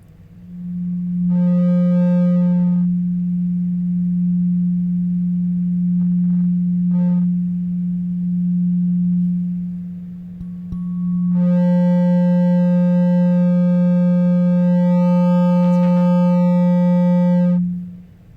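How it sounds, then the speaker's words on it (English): A loud, steady pure tone tuned to the note F, used as a heart chakra frequency at an opening ceremony, sustains throughout with brief swells of brighter overtones. "if you want to hear the frequency, the heart chakra frequency, you can bring it to your ears, and it's very loud"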